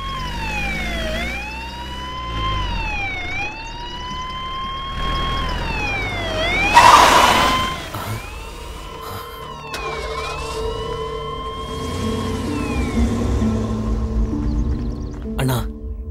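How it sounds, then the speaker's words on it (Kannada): A police jeep's siren wails in repeated rising and falling sweeps as it arrives on a street in a film scene, loud and sustained over low traffic rumble, with a brief burst of noise partway through. "ಅಣ್ಣ, ಅಲ್ಲಿ ಪೊಲೀಸ್ ಜೀಪ್ ಬಂದು ನಿಂತ್ಕೊಂಡಿದೆ."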